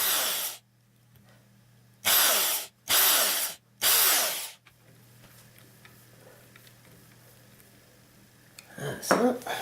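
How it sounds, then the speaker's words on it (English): A drill boring pilot holes for the machine heads on a Telecaster copy guitar, in three loud short bursts one after another, followed by quiet clicks and handling noise. "time to drill the pilot holes for the machine heads"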